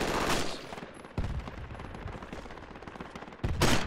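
Gunfire in Project Reality, with loud close shots at the start, a burst after one second and another near the end, over a rattle of distant shooting in between.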